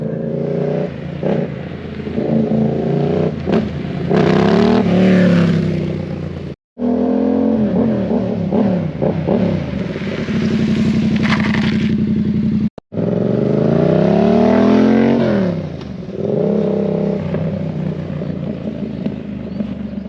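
Motorcycle engine idling and revving after an oil change, loud and close, with repeated rises and falls in engine speed and two brief cutouts, no talk.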